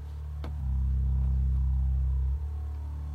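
A deep synth bass line made in FL Studio holds a loud, steady low note for about two seconds, with a quick change near the end, and no voices.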